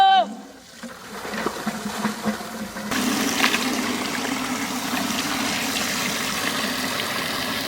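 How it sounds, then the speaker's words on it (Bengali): Pabda fish being washed under running water, a steady close splashing rush from a tap with small trickling variations, preceded by a brief tonal sound at the start. "পাবদা মাছ ধুয়ে নেব।"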